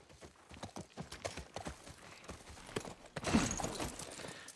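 Horse hooves clip-clop in a steady walking rhythm in The Last of Us Part I, the soft thuds close and fairly quiet, then a louder rustling swell of movement near the end.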